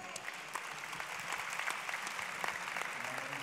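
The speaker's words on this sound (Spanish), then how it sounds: "Fuerte aplauso para ellos." Audience applause at the Premios Dial 2022 music awards ceremony, a brief, even patter of many hands heard from a distance and fairly soft.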